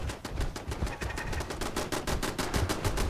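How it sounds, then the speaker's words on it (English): Automated turrets in Fallout 4 fire in a rapid, steady machine-gun rhythm of sharp, loud shots, with bursts continuing without pause. "Oh, now the turrets are active"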